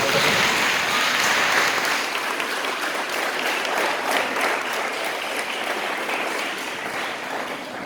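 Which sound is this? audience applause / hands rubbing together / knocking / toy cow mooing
audience applause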